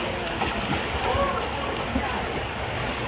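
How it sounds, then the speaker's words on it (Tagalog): Strong floodwater rushes through a flooded street in DS Garcia, Cabanatuan City, as a dense, continuous roar of churning water with faint voices beneath it. "Lakas ng agos."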